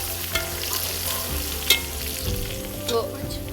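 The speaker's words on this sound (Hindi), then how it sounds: "हम चम्मच चलाएंगे" A spoon stirs chopped ginger and other ingredients in a sizzling frying pan for a traditional painda dish, with steady frying hiss under a few sharp scraping clinks near the middle and end.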